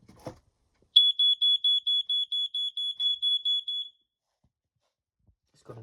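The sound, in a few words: smoke alarm test sounding, similar to BRK 86RAC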